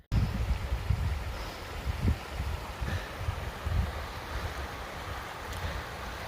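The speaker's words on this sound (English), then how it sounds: "Beautiful clear water flowing smoothly over the rocks." Clear water from a mountain stream runs smoothly over rocks beside a hiking trail near Selden Pass on the Pacific Crest Trail, a steady close wash of noise broken by gusts of wind buffeting the microphone.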